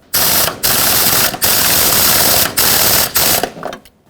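A ratchet wrench snugging a power steering return line bolt on a 2008-2020 Dodge Grand Caravan, heard as loud, close, sustained clicking runs broken by short pauses, with no speech.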